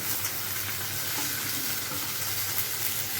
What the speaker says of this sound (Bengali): এখন এর মধ্যে দিয়ে দিচ্ছি পাতা পাতা মতো করে কেটে রাখা পেঁয়াজ আর ক্যাপসিকাম।